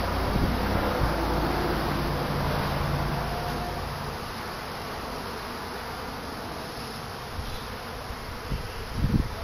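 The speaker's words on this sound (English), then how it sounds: "So we've got a swarm coming into my box." A honeybee swarm arrives at a swarm trap box outdoors, a dense, continuous buzzing drone of many bees close by, mixed with wind rumble on the microphone.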